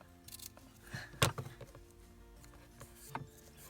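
Scissors snip off a scrap of paper in a quiet room, giving a few faint crisp cuts with one sharper snip in the middle.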